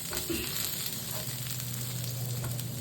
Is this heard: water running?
no